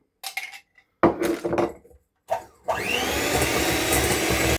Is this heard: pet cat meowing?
no